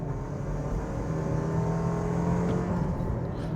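2025 Toyota 4Runner Trailhunter with a snorkel accelerating hard under load, a loud, sustained turbocharged engine drone that rises steadily in pitch, heard close with a faint whistle of turbo spool above it.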